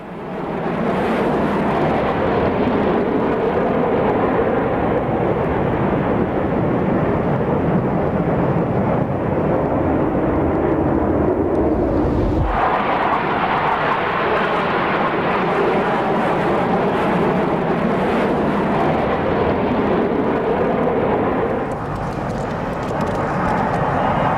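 A jet aircraft crashing at an air display in Japan after striking a house produces a sustained, loud roaring rumble with an abrupt break midway, followed by continued heavy roaring noise and no speech.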